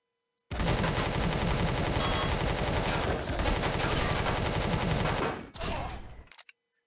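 Enemy shotgun fire in Empyrion - Galactic Survival, a loud, close, sustained volley of rapid blasts lasting several seconds, followed by a short final burst, with no talk over it.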